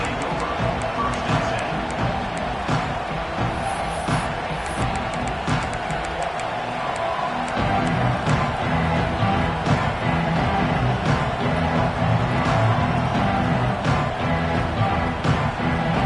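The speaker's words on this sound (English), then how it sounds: "This crowd ready to make its presence known." Stadium crowd roaring throughout a college football video game matchup against UGA, a broad steady din that swells louder in the second half, with a commentator's voice over it.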